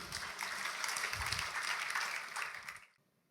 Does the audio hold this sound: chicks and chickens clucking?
no